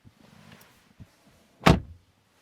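Rear door of a 2026 Mercedes GLC Electric opening with a single solid clunk of the latch close by, after quiet faint handling sounds.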